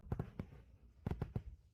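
Fireworks bursting in the distance, a few soft muffled pops in two quick clusters separated by a short pause, faint and with no talking.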